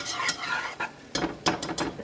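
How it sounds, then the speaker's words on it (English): Melted butter and flour being whisked into a roux in a pan, quick scraping and tapping strokes of a whisk against metal, close and moderately loud, with an irregular rhythm of short bursts. "you're going to take a whisk, and you're going to whisk that together and make a roux"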